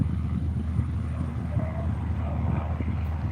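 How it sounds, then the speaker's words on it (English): A light plane taking off at Moorabbin Airport gives a steady, fairly distant propeller-engine drone that holds even throughout, with no voices. "And that plane has taken off."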